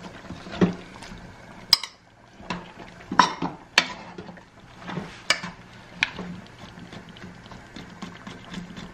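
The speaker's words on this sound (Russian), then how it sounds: "Надо все хорошенько перемешать, чтобы все пропиталось нашим" Korean braised beef ribs with pepper, onion and leek being stirred in sauce: a spoon or spatula scrapes and knocks against the pot in irregular bursts, with sharp metallic clinks over a soft wet simmer.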